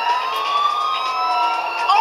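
A wailing emergency siren from a chase in the video game GTA IV rises and falls continuously, loud and close, with a synthetic game-like tone.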